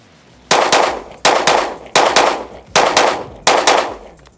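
A ZEV OZ9 HyperCOMP metal-frame pistol fires outdoors into a dirt berm in quick pairs, about ten loud sharp reports in five evenly spaced doubles, each with a short ringing echo.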